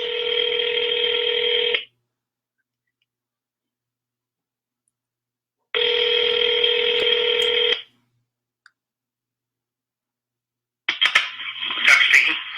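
Phone-line transfer tones on a telephone call: two identical steady multi-tone beeps about two seconds long separated by silence, then a brief burst of ringing or connection noise at the end.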